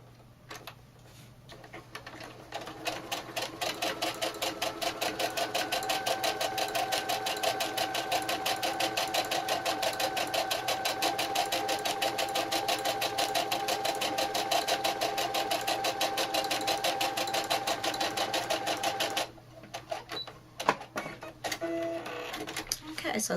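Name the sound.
sewing machine stitching a clutch bag wristlet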